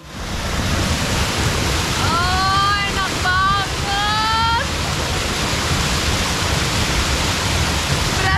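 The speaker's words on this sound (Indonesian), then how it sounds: "di sini kita bisa merasakan atmosfer berendam di sungai sambil dipijat di bawah aliran air terjun loh" A waterfall pours into a river, giving a loud, steady rushing roar of falling water. Birds chirp briefly in the middle.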